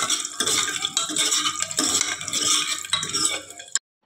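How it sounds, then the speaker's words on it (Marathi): Garlic and asafoetida sauté in hot oil with a continuous loud sizzle and crackle, broken by a few soft stirring scrapes, before cutting off abruptly. "तसेच आपण घेतलेला लसूण घालून अर्धा मिनिट आपण हे परतून घेऊ।"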